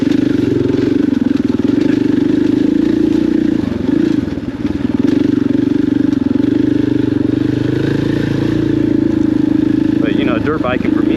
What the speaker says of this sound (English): riding a dirt bike out here in the forest